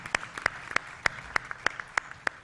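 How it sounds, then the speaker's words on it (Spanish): Sparse, individual claps for colleagues at a teacher-training talk, sounding as distinct separate hand claps in a loose rhythm, faint and close. "Daríamos entonces un fuerte aplauso a todos los colegas que nos han acompañado"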